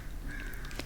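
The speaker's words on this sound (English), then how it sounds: "Mr. Crow?" A distant crow gives a faint, short caw against a constant low rumble, with a couple of soft clicks near the end and no talking.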